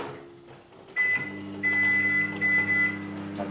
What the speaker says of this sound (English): chuck it in the microwave